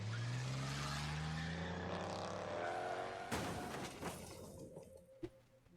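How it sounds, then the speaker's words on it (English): A car drives down a street with a vault tied to it in the video game Shadows over Loathing. The engine climbs in pitch, then gives way to an abrupt crash and clatter, a few scattered knocks and a sharp final thud. "Tie the vault to a car and drive down the street."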